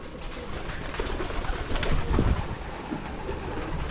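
Pigeons coo in a soft, low, continuous murmur beneath steady broadband noise around a backyard coop at feeding time, with a slightly fuller swell near the middle.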